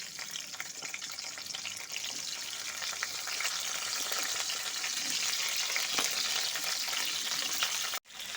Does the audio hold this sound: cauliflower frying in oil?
yes